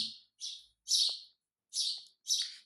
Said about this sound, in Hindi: ये चिड़िया लोग थोड़ा डिस्टर्ब कर रहे हैं, थोड़ा सा बैकग्राउंड में आपको जा रहा होगा